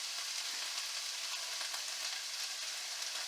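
Cabbage frying in a pan with onions, a steady bright sizzle with no pauses and no talk.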